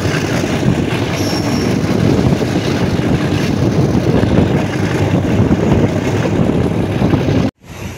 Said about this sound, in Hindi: ले जी वहाँ रेलवे स्टेशन से ट्रेन हमारी निकल पड़ी है